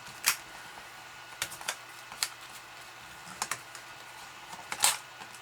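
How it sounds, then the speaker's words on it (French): Paper folded back and forth into accordion pleats while making a notebook holder, with crisp crackling creases pressed down in a few sharp bursts and quiet pauses between. "vous le pliez en accordéon, tout simplement. Voilà, on écrase bien ces plis."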